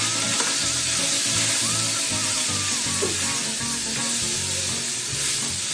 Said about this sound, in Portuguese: eu vou entrar com aquela cebola que a gente picou